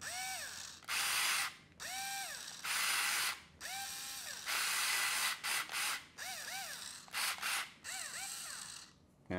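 A second cordless screwdriver, compared with a cheap FERM cordless driver set, runs in a series of short whirring bursts with rising and falling motor pitch, separated by brief pauses, close and loud with no talk.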